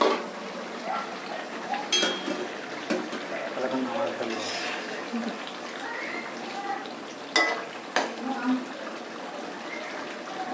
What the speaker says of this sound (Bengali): তরকারিটা আমার হয়ে গেছে, এখন আমি ঢাকনাটা সরিয়ে ফেললাম।